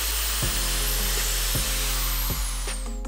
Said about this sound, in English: it was time to start drilling the holes for the monitor arms